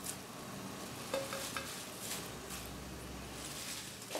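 Kale drops into a pot of boiling water with a soft splash for blanching, then a steady simmering hiss with light stirring and occasional clinks.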